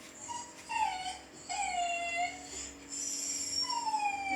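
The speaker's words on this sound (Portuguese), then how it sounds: "Cachorro chorando de" A recording of a dog crying sadly plays through a speaker, with drawn-out, wavering whines and howls in several rising and falling phrases, fairly clear over a low hum.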